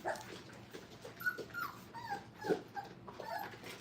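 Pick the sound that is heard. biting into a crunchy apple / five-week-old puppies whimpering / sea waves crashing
five-week-old puppies whimpering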